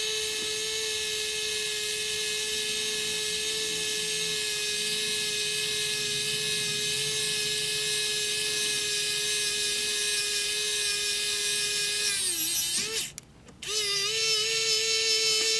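A small drill with a tapping bit runs during a DCC decoder install on a Bachmann 2-10-0 model locomotive. A steady, high electric whine lasts over ten seconds, briefly cuts out near the end, then resumes.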